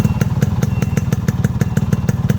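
A maroon Yamaha RX-100 Scot motorcycle with a fully rebuilt engine runs close by, giving a loud, steady, rapid two-stroke putter of evenly spaced thumps.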